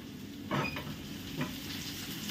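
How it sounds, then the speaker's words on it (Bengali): Fish fries in hot oil, a steady moderate sizzle with a couple of brief louder bursts as the pieces shift in the pan. "এখানে মাছটা ভাজা হয়ে গেছে, মাছটাকে বের করে নিলাম"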